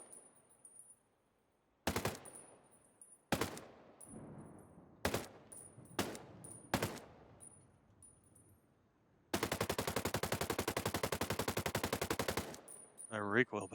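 Automatic rifle firing in Ghost Recon Breakpoint: several sharp single shots with echoing tails, then a loud sustained burst of rapid fire lasting about three seconds, and one more shot at the end.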